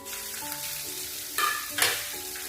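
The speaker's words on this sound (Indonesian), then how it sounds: "sekarang saya mau goreng tahunya dulu ya" Tofu fries in hot oil, a steady close sizzle with a couple of brief louder crackling bursts, and no talk.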